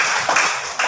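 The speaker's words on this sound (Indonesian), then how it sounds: "Oke, bagus, tepuk tangan buat Khairah." A short burst of classroom applause from students for a classmate, dense and fairly loud, with no voices over it.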